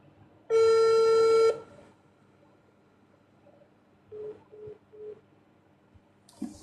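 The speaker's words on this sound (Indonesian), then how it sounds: "Ini saya lagi coba telepon Teh Novi" A phone call rings out unanswered: one loud, steady ringback tone, followed later by three short, fainter repeating tones, with quiet room noise in between.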